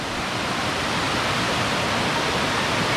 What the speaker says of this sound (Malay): Tapi memang air terjun dia sangat cantik.